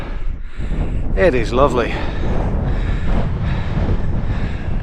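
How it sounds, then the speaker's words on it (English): Wind gusts across an open hilltop overlooking North Lancashire, a steady rumbling buffet against the microphone that runs throughout, with a person speaking briefly over it. "It's a bit breezy."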